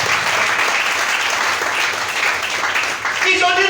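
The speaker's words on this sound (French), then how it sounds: "Si tu es d'accord, acclame le Seigneur Jésus." A church congregation applauding, loud sustained clapping with voices cheering over it.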